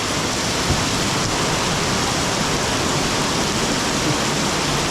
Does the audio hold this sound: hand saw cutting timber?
no